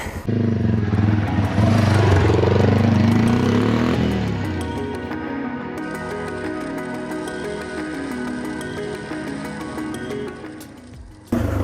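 A dual sport motorcycle ridden on trails at night, its engine revving hard and loud at first, then settling into a steady droning run with shifting pitch, ending with a brief cut and restart.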